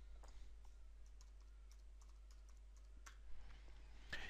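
A category title is typed on a computer keyboard in a faint, quick run of light key clicks with a slightly louder tap near the end, and no one talks.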